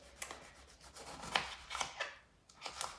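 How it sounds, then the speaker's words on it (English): A whole lime rolled by hand across a kitchen counter before juicing, giving a few soft, quiet rubbing strokes in short bursts with no one talking. "I always like to take my limes and give them a roll before I juice them."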